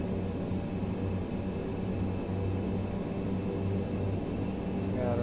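Steady, loud drone of ATR 72-600 turboprop engines in MSFS2024 at takeoff power, a constant hum with a low throbbing tone and propeller whine that swells slightly toward the end.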